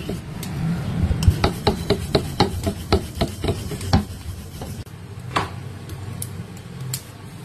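Roti dough being rolled out in a home kitchen, a rolling pin thudding and scraping against the board in a quick, steady series of knocks that thin out toward the end, no talking.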